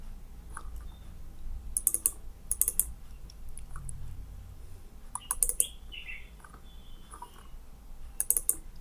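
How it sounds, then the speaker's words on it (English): Computer mouse clicks while selecting a material in staircase design software, sharp quiet clicks arriving in small bursts and doubles, with gaps of near silence between them and no talk. "just click on any material, double click on it"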